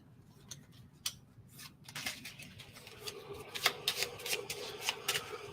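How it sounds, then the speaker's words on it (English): Cards from the Outer Rim board game are shuffled back into a deck, starting with a few scattered clicks and building into a quick run of close riffling snaps. "Then shuffle this AI card back into the AI deck."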